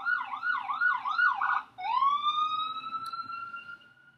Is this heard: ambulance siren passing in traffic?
yes